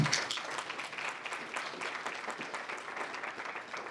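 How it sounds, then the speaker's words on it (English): A crowd applauding steadily, dense overlapping claps holding at an even level throughout, heard from within the room. "A big round of applause on that."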